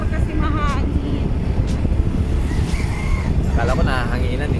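Steady roar of rushing wind buffeting a rider on a moving motorcycle carrying two people, with people talking over the noise.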